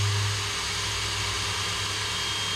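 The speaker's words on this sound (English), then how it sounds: "And we'll go ahead and drill a few holes." A power drill bores holes in aircraft kit parts for a Zenith 750 Cruzer sliding seat kit, a steady whirring motor drone with a faint high whine that stays constant and close throughout.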